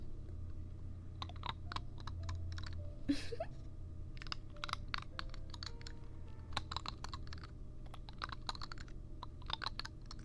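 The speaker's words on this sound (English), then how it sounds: "this side is like a mini silicone brush" Quiet, close-up crackly tapping and bristly scratching on a mini silicone brush, a quick irregular series of small crisp clicks over a faint low hum.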